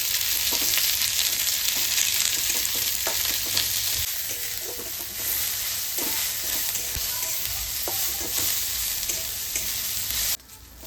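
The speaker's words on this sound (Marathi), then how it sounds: "इथं मी 2 कांदे उभे चिरून घेतले, त्याचा गोल्डन कलरवर परतून घेऊया" Two vertically sliced onions fry in oil in a pan, browning to golden with a loud, steady sizzle and occasional stirring scrapes and taps throughout.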